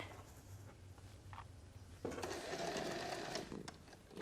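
A sewing machine stitching around the edge of upholstery fabric starts midway with a sudden rapid whirring rattle that continues steadily, after a quieter stretch with faint handling sounds.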